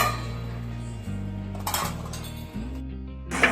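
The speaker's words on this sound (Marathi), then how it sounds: "आणि थोड्या वेळ झाकण ठेवू." A metal lid clinks onto a cooking pan of paneer bhurji, a sharp clatter at the end over a steady background hum, with a softer metallic knock earlier.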